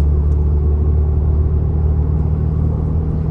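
A car cruising steadily in sixth gear at low RPM, about 55 mph, with a loud, constant low engine drone and road rumble heard from inside the cabin, no voices.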